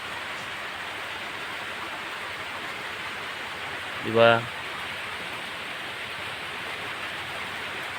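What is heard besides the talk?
strong wind and rain of Typhoon Tino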